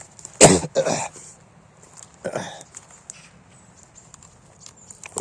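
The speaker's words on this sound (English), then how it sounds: "I'm sorry for my coughing, guys." A person coughs on a morning forest walk, with a sharp cough burst followed by a second, then another softer cough a moment later, close to the microphone over quiet outdoor background.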